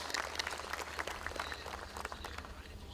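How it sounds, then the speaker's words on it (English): Conference audience at a pulses conclave gives a round of applause, a steady moderate patter of many hands clapping over a low hum, heard from some distance. "I think we must acknowledge this with a round of applause."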